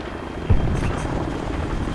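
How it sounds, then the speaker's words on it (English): Helicopter in the video game Ghost Recon Online: a loud, continuous rotor thrum with a fast pulsing chop fills the clip, with a brief thud near the start and no talk. "That's where the chopper sounded coming from."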